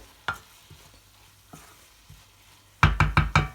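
Dried shrimp masala is stirred in a pan: a few soft, scattered scrapes and knocks, then a quick cluster of four loud, sharp spatula strikes against the pan.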